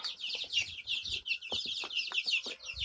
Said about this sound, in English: Oh, little baby chickens.